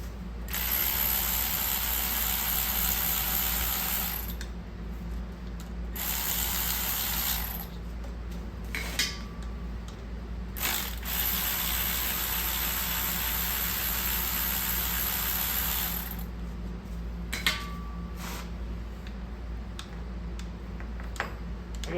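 A hand ratchet clicks in long bursts while removing a cover on a wrecked 2020 Polaris RZR Turbo, close and steady, with a few pauses and small metallic taps.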